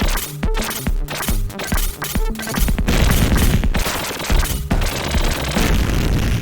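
Relentless gunfire from the run-and-gun game Contra: Hard Corps, with rapid bursts and booming blasts packed densely over loud game music, no voices.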